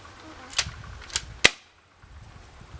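A Splatmaster toy paintball marker fires three sharp, snapping shots in an uneven rhythm. The shots are close and crisp, with quieter handling noise in between.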